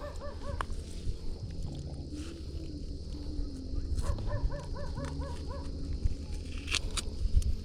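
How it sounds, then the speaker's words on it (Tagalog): A dog barks repeatedly in the background, short yips in quick bursts over a busy, low-level outdoor hum. "Ibang aso pala dyan."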